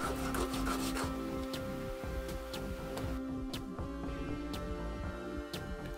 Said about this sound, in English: we need to clean the edges on some sandpaper to remove what's left of the brim.